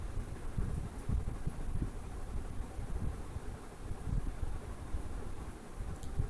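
Wind gusts across an outdoor fish aquarium in Malappuram, a steady low rumbling buffet against the microphone that swells and eases in waves with no voices.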